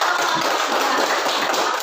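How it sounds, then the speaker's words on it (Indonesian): Pupils in a primary classroom clap their hands together, a continuous, even wash of many overlapping claps close by, with no voices over it. "Tepuk tangan."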